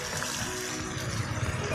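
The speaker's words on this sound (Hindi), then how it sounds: "एक प्याली इसमें पानी शामिल करेंगे" A cup of water goes into a chicken paratha filling in the pan, a faint, even trickle and sizzle lasting a couple of seconds.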